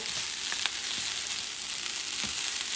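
Arroz con salchichón with olives being stirred in a hot pan over medium-low heat, giving a steady bright sizzle with a few soft scrapes of the spoon, close and continuous, with no voices.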